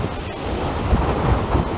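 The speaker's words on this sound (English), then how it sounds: "Awful lot of wind today." Strong outdoor wind buffets the microphone in a brief rumbling gust, loud and close with no voices.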